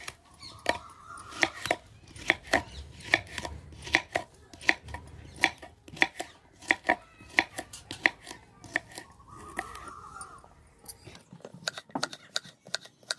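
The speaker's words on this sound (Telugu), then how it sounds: "త్వర త్వర బెండకాయలు మొత్తం కట్ చేసుకుందాం" A knife chops okra on a cutting board with quick, steady, rhythmic knocks, close and fairly soft, continuing for several seconds before stopping.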